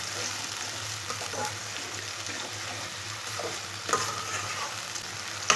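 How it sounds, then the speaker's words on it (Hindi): Onions and garlic fry in a pan over medium heat for an Indian spinach and potato dish, giving a steady close sizzle with a few stirring scrapes and clinks, no talking. "सब्ज़ प्याज और लहसुन को 3 मिनट के लिए भून लेंगे।"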